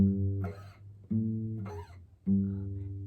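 Three plucked guitar notes forming a second interval, with long sustaining tones, each ringing and fading before the next; a faint voice-like sound rises briefly between them.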